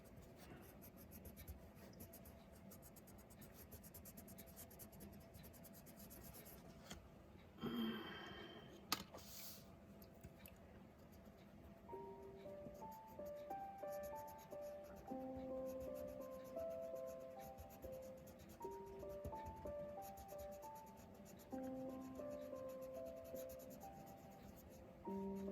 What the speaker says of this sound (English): And yes, I should be coloring left to right